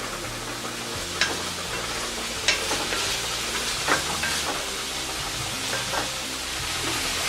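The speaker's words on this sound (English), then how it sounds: "And I'm gonna mix everything together." Meat sauce ingredients are stirred together in a sizzling pan, with a constant frying hiss and a few soft scrapes of the spoon at irregular intervals, close up and without talk.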